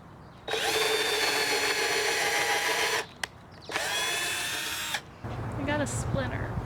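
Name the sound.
power drill driving screws into wooden raised bed board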